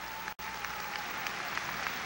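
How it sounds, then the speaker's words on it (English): Brief, fairly faint burst of audience applause at a 1994 graduation ceremony at SUNO, continuous clapping after a short gap. "Let's give all of you a round of applause."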